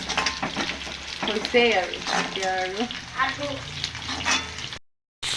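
Onions fry in a pan while being stirred for a spicy duck curry, a continuous close sizzle with occasional scraping, heard beneath a person talking almost throughout.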